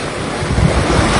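Strong sea waves wash on a shore in Quezon, Philippines: a loud, brief roar of surf mixed with gusty wind rumbling into the microphone, with no voices.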